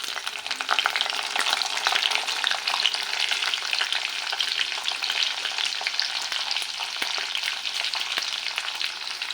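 Garlic and green chillies frying in oil in a pan, a steady, close crackling sizzle with fine popping throughout and no voices.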